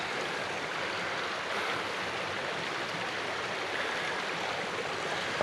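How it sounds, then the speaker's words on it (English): A river in the Vermont woods rushes past in a continuous broad whoosh, close and steady from start to finish with no talking. "I'm down by the river again."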